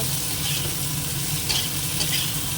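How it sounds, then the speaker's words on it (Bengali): Bitter gourd frying in oil in a home kitchen gives a steady, close, even sizzle that fills the whole stretch without a break, with no talking. "আর এবার উচ্ছেটা ভেজে নেব"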